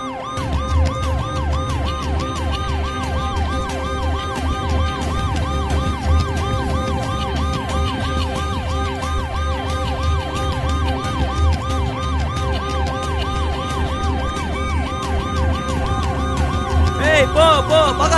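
An ambulance siren wails steadily in a rapid, repeating rise-and-fall pattern over a low engine rumble on a road. It stays loud and close throughout.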